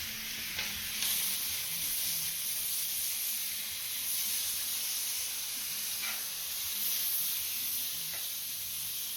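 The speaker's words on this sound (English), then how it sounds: "The Blackstone is nice and hot over here, and we'll put down some steak tips" Steak tips sizzle on a hot Blackstone griddle, a loud, steady frying hiss up close with a few sharp crackles and pops scattered through it.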